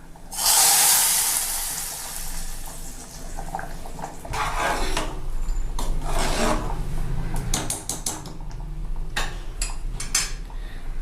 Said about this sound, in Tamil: இப்போ நம்ம தாளிச்சதை இது கூட கொட்டிக்கலாம்.